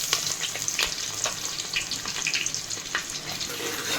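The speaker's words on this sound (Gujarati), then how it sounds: "હવે આપણે ડુંગળીને પકાવીશું।" Chopped onion frying in a hot pan, a steady close sizzle with faint scraping and light clatter, no voices.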